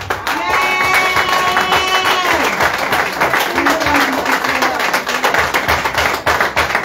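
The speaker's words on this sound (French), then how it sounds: "Est-ce qu'on peut acclamer pour une femme?" A church congregation breaks into loud, sustained applause that fills the room, dense clapping continuing steadily with a few voices calling out over it.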